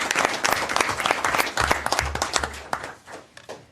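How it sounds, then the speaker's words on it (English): A council chamber crowd claps and cheers for a girls' basketball team that won gold, brisk loud applause from many hands that thins out over a few seconds. "Look at them, they're cheering."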